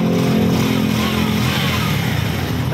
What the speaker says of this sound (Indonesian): Ayos lang, tahimik na yung makina